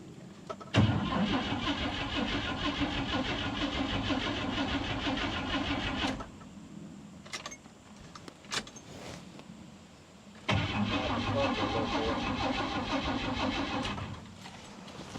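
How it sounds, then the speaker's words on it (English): A carbureted car engine that had sat unfinished mid-repair is cranked by the starter in two long, loud, rhythmic bursts of about five seconds each, separated by a quiet pause with a few clicks, without catching. "let me see if it'll crank"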